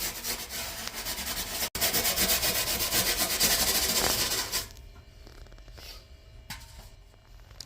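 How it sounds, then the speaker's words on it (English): Steel wool scrubs a rusty water faucet surface in a fast, continuous rasping rub for several seconds, briefly pausing once, then fading to quieter intermittent scratches near the end. "I end up using a little bit of steel wool to go ahead and scratch the surface and"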